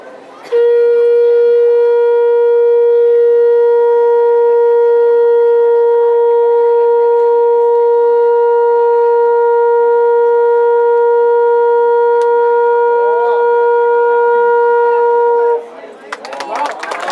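A girl in a conch-blowing competition blows a conch shell, sounding one loud, unbroken, steady tone that holds for about fifteen seconds and then stops, followed by a brief crackle of crowd noise.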